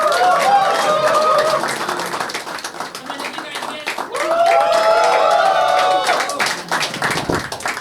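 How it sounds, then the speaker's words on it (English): Audience applause and clapping for a stand-up comedian at a comedy show, sustained and fairly loud across the whole stretch, with a host's voice speaking over it. "Start clapping, start clapping."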